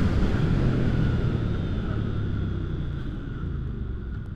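A 2022 Hyosung GV300S motorcycle on a test ride, heard as a steady engine drone mixed with wind rumble, fairly loud and continuous with no voices.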